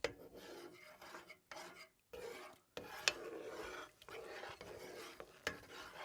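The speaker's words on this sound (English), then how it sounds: "Stir it through." Spoon scraping and stirring through venison sauce with cream in a pot over a campfire, steady rasping strokes with brief pauses, close and clear.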